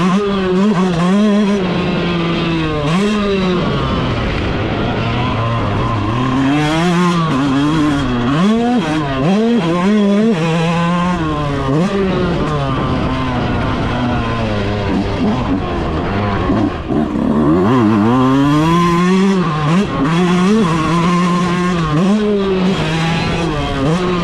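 A stock 2026 Yamaha YZ125 two-stroke dirt bike revs hard through its stock exhaust, close and loud, with repeated rising and falling revs sustained throughout and no talking.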